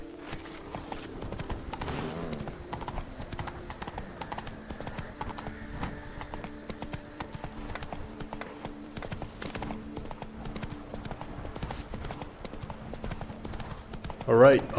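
The horse Roach trots through Witcher 3 with a steady, even clip-clop of hooves that runs the whole way through, close and moderately loud, with voices talking over it.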